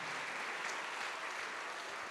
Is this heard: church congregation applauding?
yes